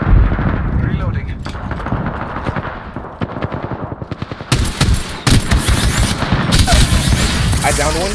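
Rapid automatic gunfire from the battle royale video game Apex Legends, loud bursts and sharp repeated shots with heavier blasts, layered under excited speech.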